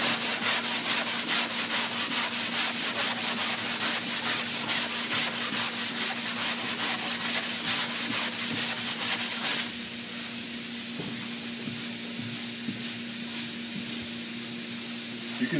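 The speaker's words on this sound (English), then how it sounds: "I've sanded the high spots here, but the low spot, since this is a block, it didn't go into that groove." A sanding block works over Bondo body filler coated with guide coat, giving steady, continuous rasping strokes up close, loud and even for most of the stretch before easing into a softer, quieter scrape near the end.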